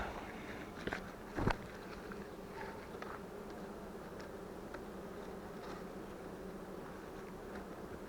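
A steady low hum of many honeybees buzzing close by at the hive, with a couple of brief knocks near the start.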